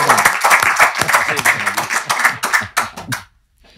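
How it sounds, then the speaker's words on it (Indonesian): Applause for a podcast guest in a studio, a burst of brisk hand clapping from a small group that thins into a few last claps and stops abruptly near the end. "Tepuk tangan buat Novel Baswedan."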